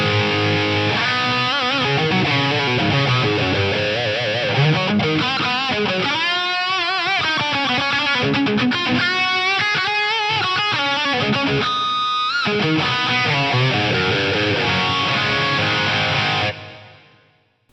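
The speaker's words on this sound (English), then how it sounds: "Let's hear the hall with some heavy distortion." Heavily distorted electric guitar runs through a Lexicon MPX-1 hall reverb, playing chugging riffs and bending lead lines that bloom into a wide wash, loud throughout before the tail fades out at the end.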